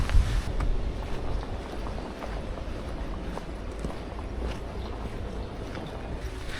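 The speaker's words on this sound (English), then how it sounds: "Well, it's a lovely day. It's a bit windy." Steady, broad wind roaring across the microphone for several seconds on a hill path in the Peak District, buffeting constantly with no voices.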